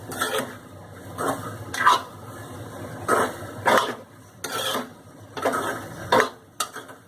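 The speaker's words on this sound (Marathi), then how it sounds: "आता हे पुन्हा मिक्स करू." Mung sprout curry stirred in a pan with a spoon, giving repeated scraping and clinking bursts of metal against the pan in an uneven rhythm, close and clear with no talking.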